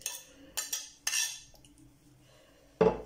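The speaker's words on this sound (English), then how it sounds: "I'll go ahead and mix this together." Metal spoon clinking and scraping against a bowl while herbs are stirred together with a cooled tomato and onion sauce, a few sharp close taps spaced out, then a final louder clatter, no talk.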